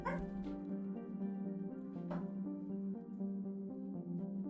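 A puppy whimpers and gives a few soft yips, faint and intermittent, over steady background music during a stream.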